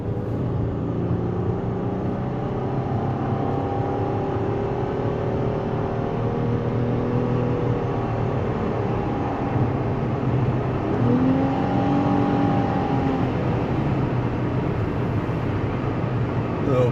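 Steady car engine and road drone while cruising on a Los Angeles freeway, a continuous whir with shifting tonal hum and brief pitch sweeps from the drivetrain, fairly loud and without talk.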